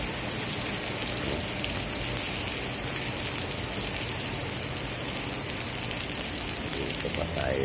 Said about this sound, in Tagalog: So, lakas ng ulan.